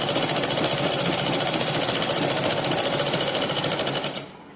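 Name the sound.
sewing machine stitching petticoat seam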